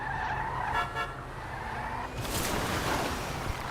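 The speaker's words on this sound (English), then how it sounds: "This car's actually drifting out, which is what I want." A car in a video game drifts sideways with a steady engine drone and a rising tyre squeal, turning into a loud, broad skidding hiss in the second half.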